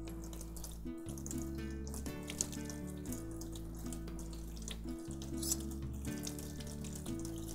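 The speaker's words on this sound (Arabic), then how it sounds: "اشطف بس السكينه عشان عايزه اقطع بيها البصل" Kitchen tap water runs over a knife being rinsed, a steady faint splashing stream broken by brief gaps and shifts in flow, with small clinks.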